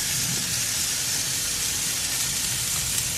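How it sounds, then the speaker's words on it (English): Steak sizzles on a hot grill, a loud, continuous, close crackling hiss that stays even throughout with no talking. "Here it's sizzling."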